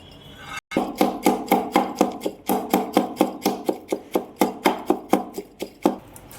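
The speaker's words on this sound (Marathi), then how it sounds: "आता मी शेंगदाणे कुटून घेतो." Roasted peanuts are pounded in a glass, a loud close series of about two dozen sharp, evenly spaced thuds in steady rhythm, with no voices.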